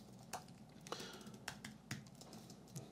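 Quick, uneven keystrokes on a computer keyboard, close up and steady for a few seconds over a constant low background hiss, with no voices.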